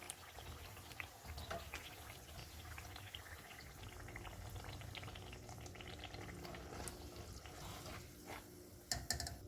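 Potato pakoras fry in oil, a faint, steady bubbling and crackling sizzle heard close and alone, with a couple of louder clinks near the end.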